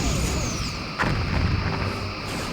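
Rear torpedo tubes fire in the Star Trek: Bridge Commander video game, a sustained booming rush of weapon fire with a sharp burst around the middle, loud and dense throughout.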